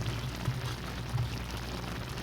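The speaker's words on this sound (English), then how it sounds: "Just having the microphone catching the bubbling." Paella bubbles and sizzles in the pan with a soft, steady crackling patter, close up and fairly quiet, with no one speaking.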